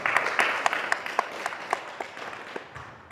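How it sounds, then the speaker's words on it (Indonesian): An indoor audience claps together for a speaker at a youth motivational talk, dense and fairly loud, with individual claps standing out as the applause fades toward the end. "Kita kasih aplaus untuk beliau dimanapun berada."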